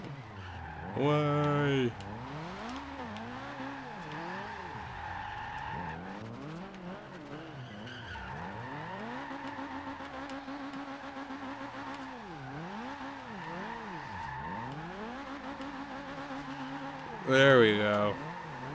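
A Subaru BRZ drift build in Forza Horizon 2 slides back and forth, its engine revving up and down in repeated sweeps with sharp tire squeals near the start and end, while someone talks briefly over it.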